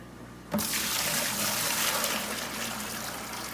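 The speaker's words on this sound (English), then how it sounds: "So we're gonna go ahead, add some more clean water." Clean water pours into a bucket at an aquarium cleaning, starting abruptly after a brief quiet moment and continuing as a steady, loud rushing gush until the end.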